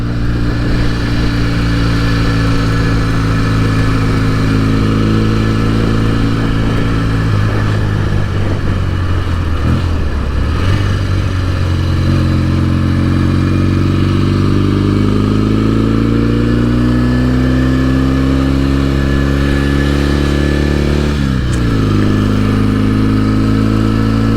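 A 1968 Norton Commando 750 motorcycle engine drones steadily while riding the Cat and Fiddle road, its pitch rising and falling as the rider shifts gears and eases off the throttle, with wind rush throughout.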